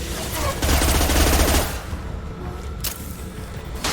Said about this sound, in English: Firing a high impact shot! Going to explode.